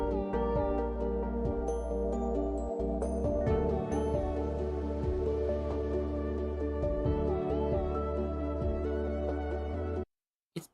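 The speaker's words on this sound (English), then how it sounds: "ambient music that just plays normally through the world" Calm ambient music plays from a drumless version of a Minecraft music disc made for Better on Bedrock, with sustained tones and a slow gliding melody, then cuts to silence near the end.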